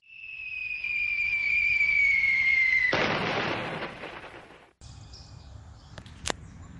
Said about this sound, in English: Whew, what an explosion.